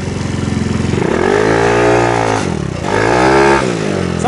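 A homemade trike on small tires is ridden with its small engine running loud and close, revving up and easing off in two surges, with some clatter underneath.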